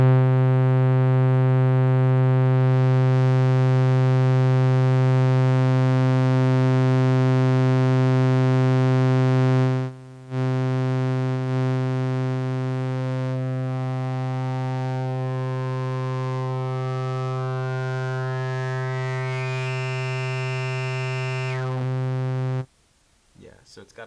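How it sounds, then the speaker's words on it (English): A resonant filter sweep on a homemade voltage-controlled synth filter circuit: a loud buzzy sustained tone whose harmonics shift and whistle as the cutoff and resonance knobs turn, briefly dropping out once before a rising squeal at the end. "as I turn the frequency knob, it opens up a lot, and there's a lot of sort of like resonance coming out with it"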